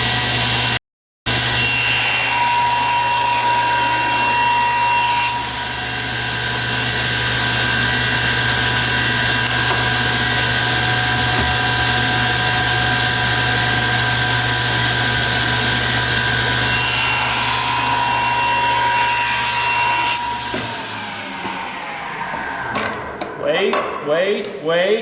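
Hand sawing through a wood book-match board to trim it to size, a steady back-and-forth rasp close to the microphone running for about twenty seconds before stopping, followed by a few knocks and rustles.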